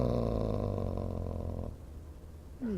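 A cat purrs in Dragon Age: Origins, a close, low, rumbling purr with a pulsing rhythm that softens and stops partway through, followed by a brief voice starting at the end.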